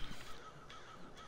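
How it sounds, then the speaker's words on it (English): Crows cawing in the foggy farm setting of the video game State of Decay 2, a few harsh calls over a steady ambient background, fairly distinct against the game atmosphere. "You hear the crows crowing."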